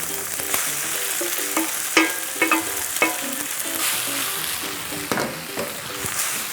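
Rice for omelette rice sizzles loudly as it is stir-fried in a pan, with repeated scraping and tapping of a utensil against the pan over a constant frying hiss and no voices.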